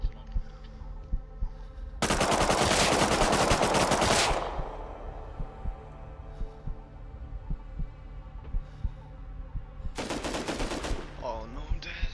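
Two loud bursts of automatic gunfire in the Rust console survival game, the first lasting about two seconds and the second shorter near the end, with a steady low background hum between them.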